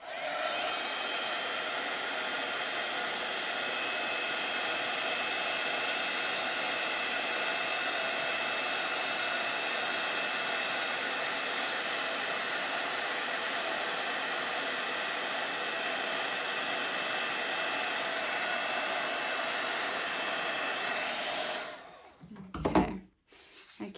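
Heat gun warming a stamped image on a white card, a loud steady close blowing roar lasting about twenty seconds before switching off, followed by a few handling noises.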